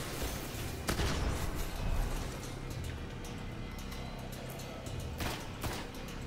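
A shotgun fires in the video game Destiny, with a couple of loud, close blasts standing out over continuous game battle noise and rumble.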